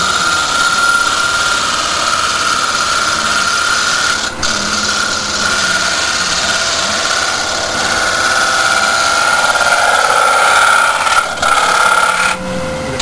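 A gouge cutting a thin, wet wood bowl spinning on a lathe, giving a steady, loud scraping whir with a strong sustained tone, brief dips and a flexing vibration as the tool rides the bevel, with no talk.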